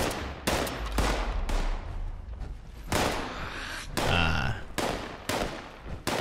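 Loud gunfire rings out in the video game Fallout 76, with repeated sharp bursts and single shots spaced irregularly across the clip, close and dominant.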